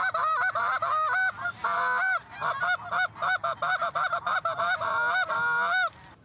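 Rapid goose honks from a call, clucking and murmuring in quick bursts with short pauses, loud and close, mimicking a flock of snow geese.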